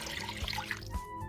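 Chicken bouillon mixed with water is poured into the bottom of a crock pot, giving a brief, close, soft liquid splash and trickle.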